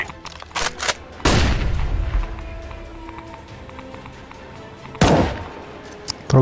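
Grenade blast and flashbang in Counter-Strike: Global Offensive, two sharp loud bangs a few seconds apart amid scattered gunshots and footsteps, with a player talking over the action.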